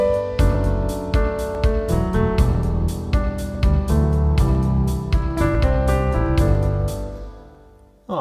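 Pop Christmas music cue built in Logic, with steady drums, bright bell-like hits and sustained chords playing together loudly for about seven seconds before fading, then a brief restart at the end.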